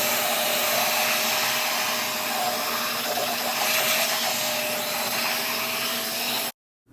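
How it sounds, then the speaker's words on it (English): Hair dryer blowing hot air steadily over a bleached wig, a loud, continuous close-range whoosh with a faint motor whine, cutting off abruptly near the end. "you can also use your dryer to give it some good heat"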